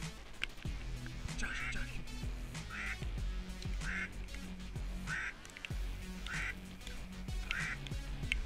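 Hen ducks quack repeatedly in a steady rhythmic series during a duck hunt on Harsens Island, loud and fairly close, while hunters talk over the calls.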